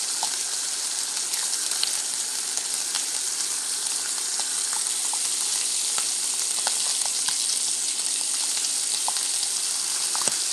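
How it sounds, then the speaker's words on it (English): Steady, crackling sizzle of beef bacon frying in a pan, with scattered pops over a continuous hiss, close and fairly loud throughout. "All right, we're letting that sizzle."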